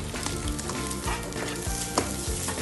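Meat, egg and cabbage sizzle loudly in a hot oiled pan as they are stir-fried, a steady hiss broken by scraping stirs of a utensil at regular intervals.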